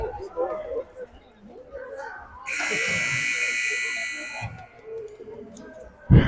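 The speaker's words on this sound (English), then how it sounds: "But the buzzer sounds and Rogers wisely pulls up." A loud, sustained electronic buzzer marking the end of a period blares for about two seconds over an arena crowd and commentary, then cuts off as the noise continues.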